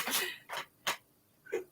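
A person sneezing indoors in a few short, sharp bursts spread across a couple of seconds, fairly close and with no talk over them.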